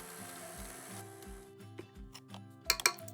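Stand mixer blending dry ingredients into creamed butter for chocolate chip coconut cookie dough, a low rhythmic churning hum with regular pulses, ending in a few sharp clinks of the beater against the bowl.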